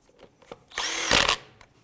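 A power drill-type tool snugs down lug nuts on a 2004-2009 Dodge Durango wheel, one loud, close buzzing whir lasting about half a second amid quiet.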